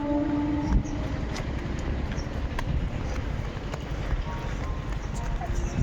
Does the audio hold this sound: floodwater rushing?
no